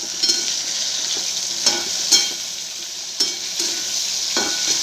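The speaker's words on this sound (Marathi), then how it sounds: "आता टाकली भेंडी. चांगली हलवून घेतली." Okra sizzles steadily in a frying pan as it is stirred, with a few sharp scrapes and taps of the spoon against the pan cutting through the continuous hiss, up close.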